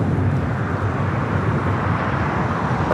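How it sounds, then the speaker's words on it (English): A Delta Airbus A330neo taxiing at LAX sends a steady, loud jet engine roar with broadband rumble through the whole stretch, unbroken and close by. "this Delta A330 Neo will head over there to the north side"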